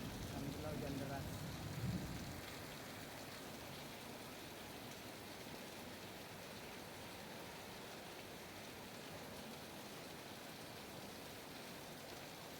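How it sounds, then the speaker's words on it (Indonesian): Heavy rain pouring over a flooded village street in Jatikramat, Bekasi, a dense steady hiss throughout, with a brief louder burst near the start. "Alhamdulillah hujan deras."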